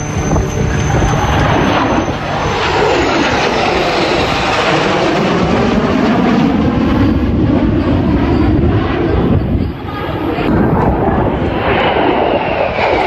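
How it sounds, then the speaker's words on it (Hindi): Fighter jets and helicopters flying overhead at the Aero India 2021 air show in Bengaluru, a loud, continuous roaring jet engine drone with shifting whine, filling the whole stretch with no talk. "एरो इंडिया शो में इस वक्त लड़ाकू विमान और हेलीकॉप्टर गरज रहे हैं।"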